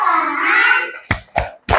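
Children in a classroom activity do a thumb clap: a sung chant of voices, then three sharp, close hand claps in quick succession.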